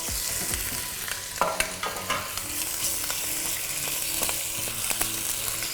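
Poultry carcasses and bones brown in a hot, tall pan with steady loud sizzling and frying, occasional scraping stirs and clinks throughout.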